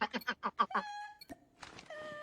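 In a video game, enemies turned into birds by a gun give rapid clucks, a quick run of about six close chicken-like calls, followed by a few fainter squawks and chirps.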